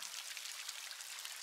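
Rain pours steadily as a sound effect in a Vietnamese horror audio story, a dense, even hiss of falling drops with no voices.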